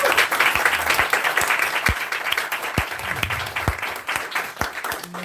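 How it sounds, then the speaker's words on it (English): A small audience at a house gathering claps in sustained applause, a dense crackle of many hands with a few louder close claps standing out, continuing throughout. "Can we all just give a big round of applause for Teresa"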